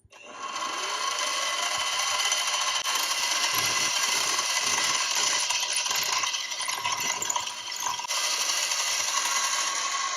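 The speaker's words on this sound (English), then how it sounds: "I set up a depth stop so that I don't drill through the base" A drill with a depth stop bores holes in a bridge piece on a vintage Kramer 450-B aluminum neck bass, a steady high-pitched whirring grind running continuously for about ten seconds, close and without talk.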